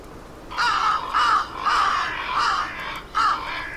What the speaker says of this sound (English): I can't do much with the crows